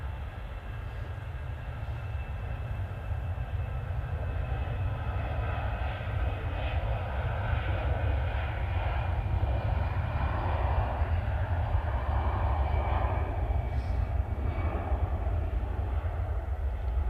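An Iberia Express airliner bound for Madrid departs, its engines making a distant, steady roar with a low rumble that builds slightly and holds for the whole stretch, with no voices.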